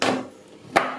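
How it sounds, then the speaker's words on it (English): A knife chopping a bar of chocolate into chunks on a board, two sharp thuds about three-quarters of a second apart, close and fairly loud with a short ringing tail after the first. "Chop it up in reasonable sized chunks."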